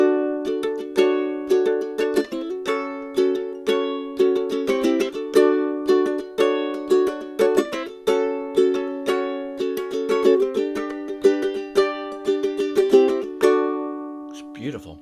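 Kala Metropolitan Curly Mango tenor ukulele in standard high G tuning, played alone for about fifteen seconds with steady strummed chords and picked notes ringing clearly, close and bright, before a final chord fades out.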